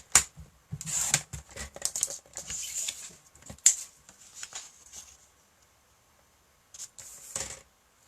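A paper trimmer slices an acetate sleeve for a craft gift box, giving sharp crisp bursts of cutting and sliding clicks in uneven runs, close and fairly quiet, with a short pause before a final cut.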